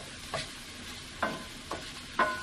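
Shrimp for cilantro lime shrimp stirred in a hot pan, with four distinct scraping stirs over a low, steady sizzle, close and moderately loud with no talking.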